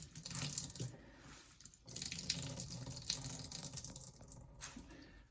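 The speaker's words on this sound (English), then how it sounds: "we're just going to go ahead and drain the water out" Water drains through cheesecloth from grated potatoes for latkes, a quiet trickling and splashing with soft squeezing and rustling of the cloth, close and faint.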